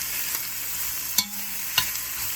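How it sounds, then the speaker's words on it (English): Peppers and onions fry in olive oil with Creole seasoning, giving a steady loud sizzle, broken by two sharp stirring scrapes; no talk is heard. "The power of like the olive oil with the peppers and onions frying."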